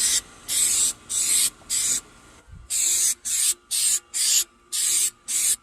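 A spray can laying thin metallic paint in a Honda Civic engine bay, ten short hissing bursts in a regular rhythm with brief silent gaps between them, close and alone.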